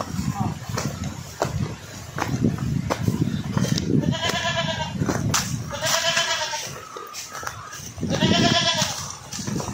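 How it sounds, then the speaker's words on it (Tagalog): Goats bleat repeatedly in wavering, harmonic calls, several overlapping, with people talking and outdoor background noise throughout, at a fruit farm. "Ito ba yung mga kambing nyo?"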